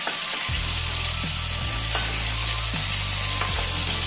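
Pieces of pointed gourd (potol) sizzle steadily in oil in a wok, a close, continuous frying hiss with a few soft stirring scrapes and low rhythmic knocking underneath, no voices.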